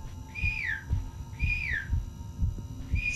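A person whistles a series of rising-and-falling notes, three repeated phrases close up, during a horror-game session with faint background sounds.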